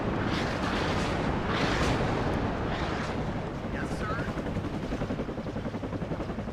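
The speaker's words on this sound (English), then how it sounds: "Now we're going to be coming under fire from the rocket artillery." Rocket artillery fire in the WARNO strategy game: a dense, continuous roar of launches and impacts rumbling heavily, with whooshing streaks over a thick low-end wash.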